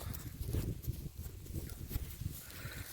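Faint, soft hoof thuds clop irregularly on the ground as a horse shifts and steps nearby, quiet and muffled.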